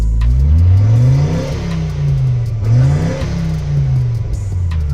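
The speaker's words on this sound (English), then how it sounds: "You got turbo noises." A project car's engine revs up and down in repeated loud sweeps, with a whirring turbo note riding over the rising and falling engine tone, close and alone without talk.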